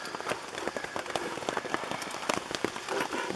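Rain pattering steadily on a lavvu tent, a dense field of close, irregular drops tapping the fabric with scattered sharper hits throughout.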